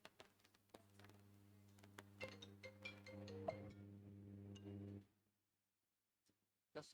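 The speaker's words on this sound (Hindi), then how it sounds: "₹10 का फोन बज गया।" A cheap ₹10 mobile phone rings with a buzzy, tinny electronic tune, faint and steady for about five seconds, then cuts off into near silence with a couple of small clicks.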